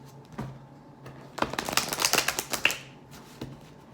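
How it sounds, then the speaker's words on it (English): A deck of tarot cards is shuffled close by, a quick run of crisp riffling flicks in the middle, with a few soft taps before and after. "One more shuffle."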